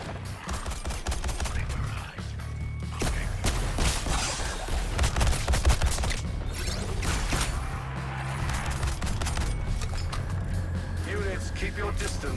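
Gunfire in the video game Suicide Squad: Kill the Justice League, with dense bursts of shots and crashes layered over game music and effects, loud and nearly continuous.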